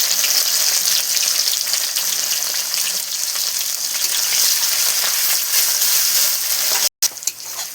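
Onion and garlic frying in hot oil with dried chilies, a loud continuous hiss and crackle close up with no talk, cut by a brief dropout and clatter near the end.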